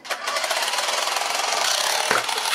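A fast RC car with a screwdriver mounted on it buzzes at full throttle with a rattling motor drone, then hits an LCD monitor in a short thud near the end.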